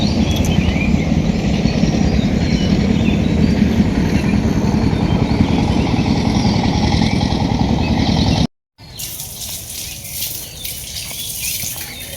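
A crowded passenger train runs slowly in the morning, heard as a loud, steady rumble and clatter that cuts out briefly, then returns quieter and thinner.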